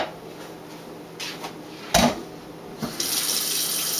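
A kitchen tap runs water into a pot of cut potatoes. A loud clunk from a pot or cupboard comes partway through, and then the water stream opens up into a steady, bright rush.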